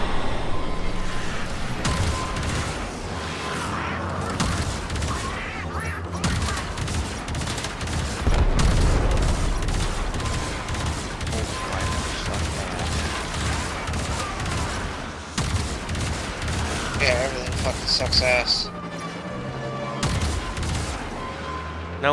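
Warframe weapons fire in long, loud, dense volleys of rapid gunshots and booming impacts, continuous for over twenty seconds with brief breaks and a few bursts that sound like explosions.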